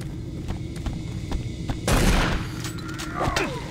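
In the game Doom 3: Resurrection of Evil's Lost Mission, a shotgun fires a heavy, booming blast midway, standing out against a bed of low in-game rumble and scattered smaller thuds, up close and loud.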